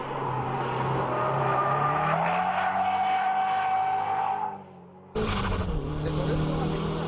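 A car in the racing game Live for Speed held in a power-over drift, the engine roaring loudly with rising and falling pitch, then cutting out briefly before the revs surge back.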